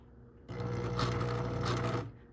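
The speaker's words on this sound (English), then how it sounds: "You don't want to break the sewing machine's needle" Sewing machine stitching fabric for a memory ornament, a steady rapid whirring run of about one and a half seconds that starts and stops abruptly, close and alone in a quiet room.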